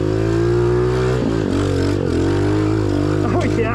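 A cheap Temu dirt bike engine runs steadily nearby, its pitch dipping and rising with small throttle changes, loud and continuous throughout.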